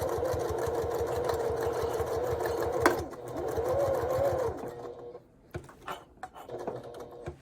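Domestic sewing machine stitching a curve on a heart-shaped pouch, a steady rapid mechanical whir for about five seconds, then stopping, followed by a few quiet clicks and handling sounds.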